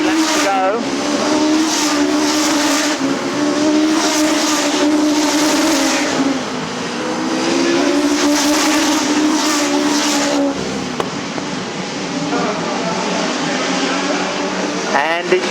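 Stock cars race around Arlington Stadium, engines droning loudly and continuously as the pack circles, with a commentator announcing over the top throughout.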